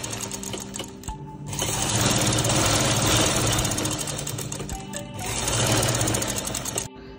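Sewing machine stitching all the way around a square cloth handkerchief, a loud close-up mechanical whirring run that starts, pauses briefly mid-seam, then resumes before stopping near the end.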